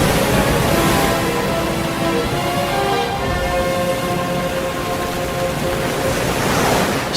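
Rough sea waves roll and break in a steady, loud broadband roar with no pauses, heard close and alone throughout.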